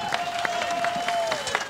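A live jazz orchestra audience, Don Neeley's Royal Society Jazz Orchestra at Radio Day by the Bay 2022, gives sustained, dense applause with scattered claps, a faint steady tone hanging over it.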